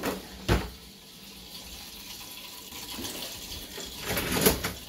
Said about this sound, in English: 1 second while I clean my favorite spatula